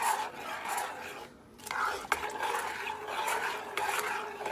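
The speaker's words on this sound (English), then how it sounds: "I'm just going to stir it here." A spoon stirs through a much-used old favourite pot of French vanilla on the stove, giving a steady soft rasping and scraping that runs throughout, with a brief pause and one sharp knock midway.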